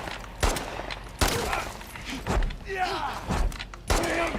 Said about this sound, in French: j'ai vidé mon chargeur sur lui